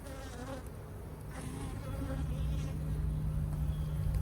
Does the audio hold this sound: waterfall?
no